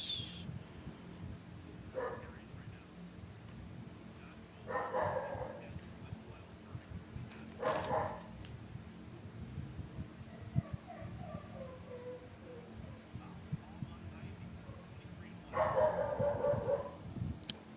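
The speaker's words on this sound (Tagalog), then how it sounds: "Ang ingay ng aso." A few scattered dog barks sound at a distance, separated by long pauses, over a steady low background rumble.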